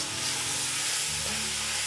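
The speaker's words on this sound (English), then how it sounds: "Mix this all well and saute this for around 5 to 6 minutes." Vegetables seasoned with salt and biryani masala sautéing in a pot, a continuous close sizzle with stirring scrapes throughout.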